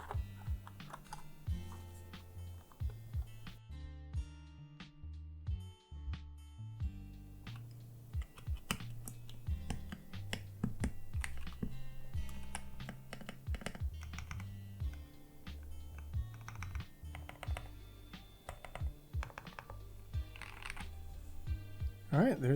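Keycaps are pressed onto an aluminum 75% mechanical keyboard, making a string of sharp plastic clicks and snaps in irregular bursts over a quiet, low background tone.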